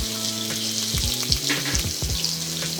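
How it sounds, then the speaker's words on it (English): Ground vegan beef crumbles drop into hot grapeseed oil in a wok and fry with a loud, dense sizzle, while scraping and stirring knocks from a utensil punctuate the crackle up close. "I'm just gonna go ahead and very simply just dump it all right in."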